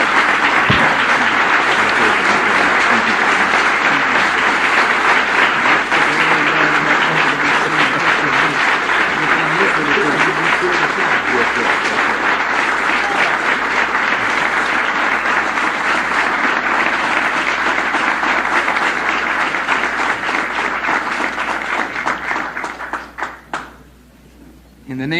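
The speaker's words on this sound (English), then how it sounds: "Let's bring him on with a warm round of applause." A large crowd welcomes Louis Farrakhan with a long, warm round of applause, loud sustained clapping from many hands that holds steady for over twenty seconds, then thins and dies away near the end.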